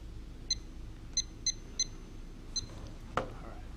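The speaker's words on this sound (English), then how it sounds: "Let me reset our timer here." An electronic timer at a Washington Supreme Court candidate forum gives a run of short, high, evenly spaced beeps, then a sharper click near the end. It is faint over a low room hum, with no talking.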